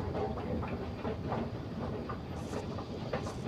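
A steady low rumble of a moving passenger train, heard from inside, with faint rhythmic clatter of wheels over rail joints running continuously throughout.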